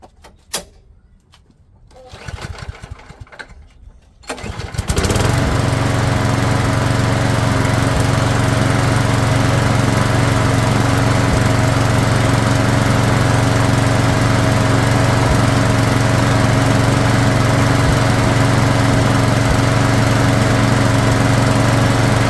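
A lawn mower engine, freshly tuned up with a doubled gasket over a slightly warped surface and needing a valve job, fires after a few quiet seconds and then runs loud and steady nearby without a break.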